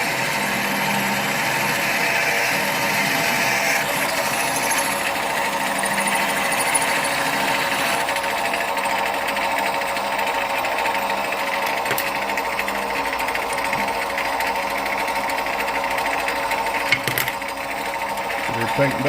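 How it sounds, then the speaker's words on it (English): A lathe runs steadily as a drill bit just over 1/4 inch bores into a workpiece, giving a continuous whining mechanical drone with a few brief clicks and knocks throughout. "Okay, we're going with just over a 1/4 inch drill."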